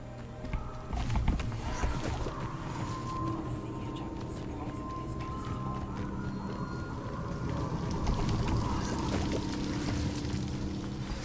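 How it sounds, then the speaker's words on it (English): A waterfall in the video game Hogwarts Legacy gives a steady rushing, pouring wash of water that holds through the whole stretch, with speech heard over it. "The waterfall."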